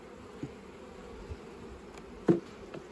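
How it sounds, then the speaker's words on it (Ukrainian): Honeybees buzz around an opened hive while a colony is moved from a horizontal hive into a new one, making a faint, steady low hum with a couple of soft knocks and no voices. "з вулику залишилися бджілки"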